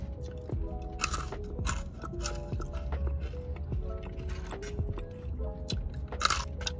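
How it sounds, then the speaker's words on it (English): Loud, close crunching of very crispy fries from a food truck, with repeated crisp bites and chewing in an irregular rhythm, no talking. "the texture of the chips is putting me off a bit because it's about too crispy, crunchy. I mean, just listen to this crunch."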